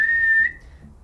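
A person imitates a small whistle with one short, steady, high whistled tone lasting about half a second, then stops.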